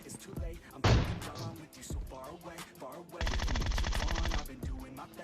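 PUBG Mobile gunfire: a loud burst of rapid automatic shots near the start, then a long sustained volley of rapid fire later, with in-game sounds between.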